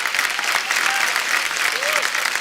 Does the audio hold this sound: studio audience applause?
yes